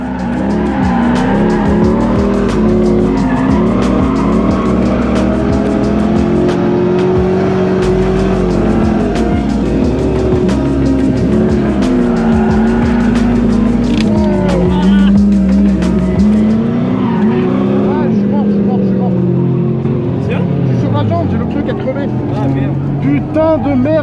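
Drift cars battle at a drift event in Spain, with engines revving hard and loud, continuous tire squeal and skidding over a long, sustained run. Engine pitch rises and falls as the cars slide, and a voice talks over the noise.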